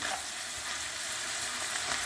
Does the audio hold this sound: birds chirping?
no